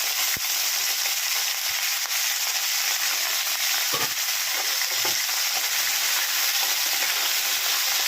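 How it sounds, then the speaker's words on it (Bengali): Okra fries in oil in a pan with a dense, steady sizzle that fills the whole stretch, broken by a few faint clinks. "আলুর তেলের মধ্যে আমি ঢ্যাঁড়সগুলোকে ছেড়ে দিলাম, আর ঢ্যাঁড়সগুলোকে আমি ভেজে নিচ্ছি।"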